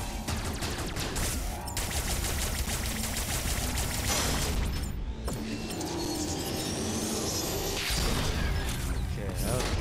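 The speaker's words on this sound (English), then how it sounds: "Okay, explosion." Metroid Dread gameplay fills the clip with dense, loud mechanical clanking and rapid-fire blasts, a sustained barrage of game sound effects with bursts of explosive noise and a brief drop near the middle.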